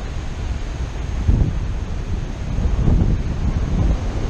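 Steady wind rushes past the microphone during a paragliding flight into a headwind, loud buffeting low rumble with gusts swelling and fading, no voices.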